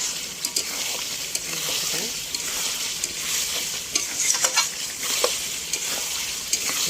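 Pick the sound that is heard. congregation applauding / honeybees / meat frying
meat frying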